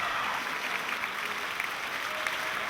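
Students at a high school in Yeosu, South Korea, applauding and cheering as visiting students and a teacher arrive, a steady dense patter of clapping from a crowd throughout the short stretch.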